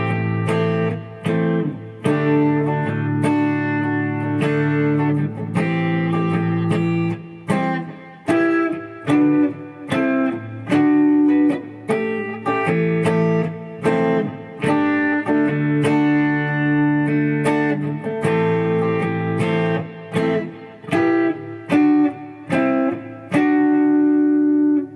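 A riff played on guitar, with a steady stream of plucked notes and ringing chords repeating in a flowing pattern, loud and close with no talking.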